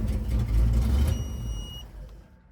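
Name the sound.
car electronic brake warning beeps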